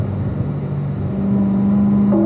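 A car accelerates back out of a corner, its engine tone stepping up in pitch partway through and rising again near the end, loud and close, without voices.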